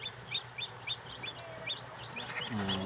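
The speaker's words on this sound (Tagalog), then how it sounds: "Lumabas na yung mga sisiw natin na Rhode Island Red, no?" Newly hatched Rhode Island Red crossbreed chicks peep in a homemade incubator, a run of high, evenly spaced chirps close by with a faint lower cluck near the end.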